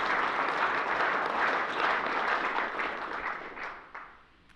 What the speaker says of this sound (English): Let's give another round of applause for our defensive finalists